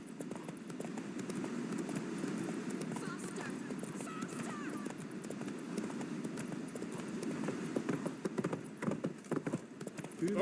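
Roach, Geralt's horse in the video game The Witcher 3, gallops in a rapid steady clip-clop of hooves close by, running continuously under music and occasional speech.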